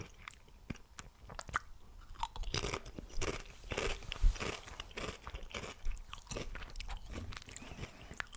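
Pringles Sizzl'n sour cream chips crunched and chewed up close, a steady run of sharp, crisp bites and chewing with no talking.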